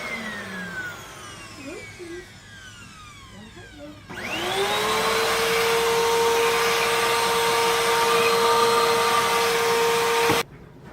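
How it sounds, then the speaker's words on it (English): A vacuum cleaner switches on with a rising whine, then runs loud and steady before cutting off abruptly near the end. "Vacuum this room."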